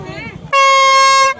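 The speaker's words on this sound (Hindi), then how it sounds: "ट्रेन का हॉर्न लग गया" A loud, steady train horn blares for under a second after a brief stretch of talking, sustained and bright, then cuts off abruptly.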